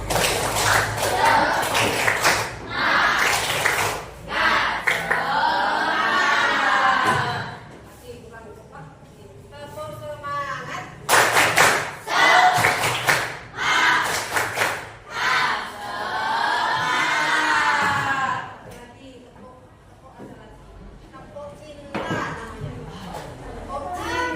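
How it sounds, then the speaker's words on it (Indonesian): A group of children performs a rhythmic spirit clap, bursts of fast patterned clapping mixed with chanted voices, repeated in two rounds with talking and pauses between them. "Tepuk semangat ya."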